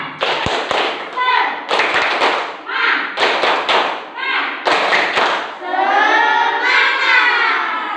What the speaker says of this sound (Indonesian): mari kita tepuk semangat dulu. 1, 2, 3, tepuk semangat.